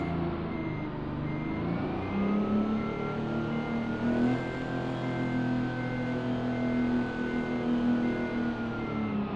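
A heavy truck reverses in American Truck Simulator, its engine droning steadily with a slight rise in pitch while a reversing beeper sounds at regular intervals over it, with no talking.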